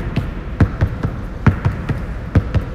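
Basketball dribbled at knee height during a ball-handling drill, giving a steady run of sharp bounces on a hard floor, about two to three per second, close and fairly loud without talk.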